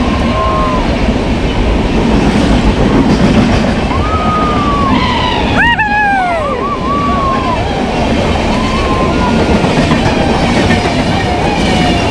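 A Konkan Railway train passes close by near a waterfall, a loud continuous rumble and clatter of wagons with a few horn-like tonal calls in the middle, over steady background noise.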